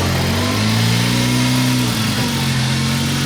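A 1972 Datsun ute engine idles smoothly and close by, then revs up in a rising and falling sweep before settling back, steady and loud throughout.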